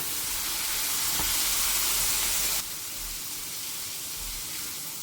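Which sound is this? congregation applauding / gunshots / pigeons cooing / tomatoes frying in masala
tomatoes frying in masala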